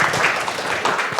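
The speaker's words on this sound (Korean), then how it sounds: "우리 박종준 박사님과 홍성기 박사님께 큰 박수 다시 한번 부탁드리겠습니다." Brief, dense applause from a seminar audience honoring panel speakers on public transport law, a steady wash of many hands clapping at moderate level.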